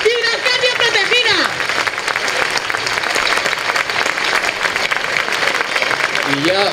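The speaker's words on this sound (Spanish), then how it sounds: "Fuerte aplauso para él, que se oiga hasta en la China." Loud, sustained audience applause and clapping at a paloteado dance celebration during the San Juan fiestas in Tudela, with a crowd cheering over it and a voice speaking briefly at the start and end.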